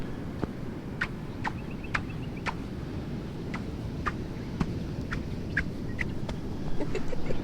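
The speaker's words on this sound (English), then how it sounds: "I'm just going to see if the mic will pick up the squeak of the sand" Dry beach sand on Fraser Island squeaks underfoot in a steady walking rhythm, each step giving a short, sharp chirping squeak over soft wind and surf noise, heard up close.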